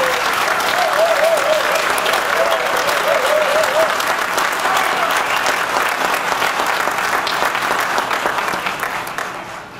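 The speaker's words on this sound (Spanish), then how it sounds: "Pido un fuerte aplauso para Sergio Chiusi" Strong, sustained applause from a concert audience for a pianist accompanying a Uruguayan choir, dense clapping filling the hall throughout and tapering slightly at the end.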